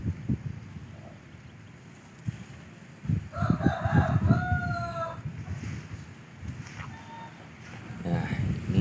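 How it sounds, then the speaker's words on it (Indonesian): A rooster crows in the afternoon, a clear drawn-out cock-a-doodle-doo at moderate distance over low wind rumble, followed by further fainter crows and clucks. "ayam berkokok"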